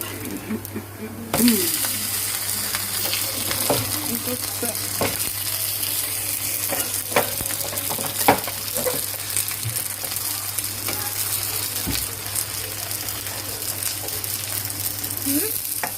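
Semiya vermicelli fries in a pan with a steady, moderate sizzle. Occasional clicks and scrapes of stirring punctuate it, and a louder clatter comes near the start.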